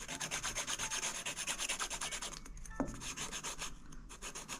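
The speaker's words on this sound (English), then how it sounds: "now we're going to just kind of file off some of the high ridges and the bumps" A file scrapes ridges and bumps off a no-sew golden flower fabric Christmas ornament in quick rhythmic rubbing strokes, close and soft, pausing briefly near the end.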